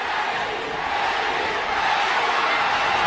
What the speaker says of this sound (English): Pacquiao crowd chanting,